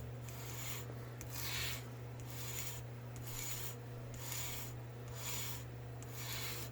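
A convex knife blade drawn in long repeated strokes across a sharpening surface, an evenly spaced rasping swish roughly once a second, close and steady over a low constant hum.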